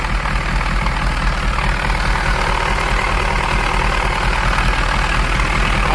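A rebuilt 1982 Porsche 924 Turbo engine idles steadily just after its first start, a loud, close, low rumble holding an even pace throughout.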